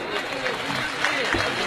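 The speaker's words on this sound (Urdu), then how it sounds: "اب تو ایک بار تالیاں آپ کی آنی چاہیے" A gathering audience claps in a steady, dense wash of applause at a devotional poetry recitation, with voices mixed into the sound throughout.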